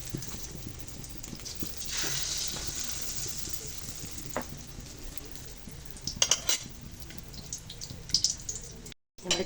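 Tortang talong, an eggplant omelette, frying in a hot pan with a steady close sizzle, then scattered clinks and scrapes of a utensil against the pan toward the end.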